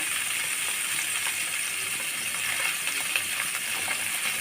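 Taki fish frying in mustard oil in a pan gives a steady, bright, hissing sizzle with faint crackles and pops, constant throughout and close by, with no voices.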